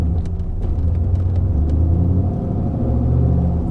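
A turbocharged LS V8 in a Trans Am with its air filter removed revs under light load, a loud, close engine rumble swelling and easing as the turbo spools.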